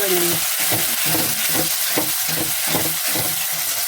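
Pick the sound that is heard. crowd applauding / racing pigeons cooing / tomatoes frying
tomatoes frying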